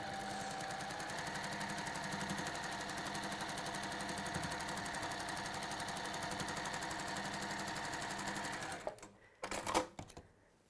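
Sewing machine stitching a seam on fabric pieces placed right sides together, a steady fast mechanical whirring run close by, stopping near the end with a few short clunks.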